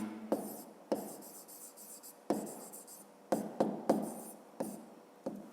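Pen writing in a school notebook during a fifth-grade maths exercise, a series of close scratchy strokes in bursts with short pauses between them, with no talk.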